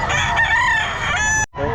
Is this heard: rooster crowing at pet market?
yes